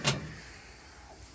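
The door latch of a Broil King vertical smoker snaps shut with a single short metallic clack close by, followed by quiet room tone.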